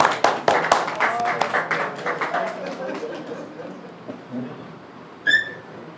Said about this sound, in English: Another round of applause as they leave.